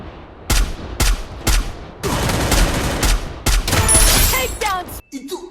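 Gunfire in a battle royale video game: several sharp single shots in a row, then long rattling bursts of automatic fire, loud and close, ending with a few quieter game effects.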